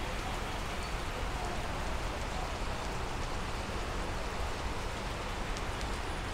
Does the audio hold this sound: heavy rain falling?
yes